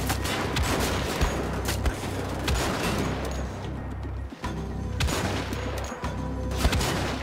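Heavy gunfire in Wolfenstein: The Old Blood sounds as dense, booming volleys of shots in repeated rolling clusters. A brief lull in the middle breaks the barrage.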